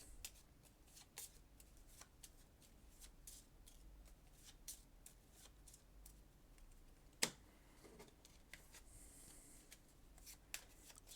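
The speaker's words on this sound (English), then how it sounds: "So nice and shuffled" Playing cards for the Arkham Horror card game are shuffled at a table, a faint, close series of quick riffling flicks and soft taps with no speech.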